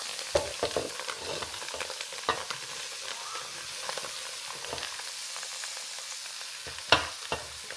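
Roux for a Louisiana dish cooks in a pot, a soft steady sizzle and bubbling broken by scattered scraping and stirring clicks, with one sharper clatter near the end and no voices.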